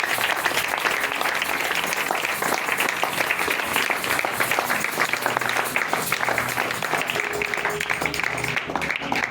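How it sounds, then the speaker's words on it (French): A church congregation applauds loudly and continuously, a dense wash of many hands clapping throughout, with faint voices mixed in. "Acclame encore très fort pour Jésus."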